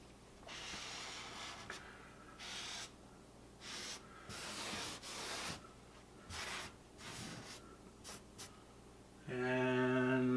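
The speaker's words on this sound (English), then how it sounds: "Then I always take a dry rag and go back and just try to run down the bricks, finish getting it off" A dry rag rubs and wipes leftover grout off a brick kitchen backsplash in bursts of soft scraping strokes, each a second or so long with short pauses between, close and fairly quiet, ending in a louder steady noise.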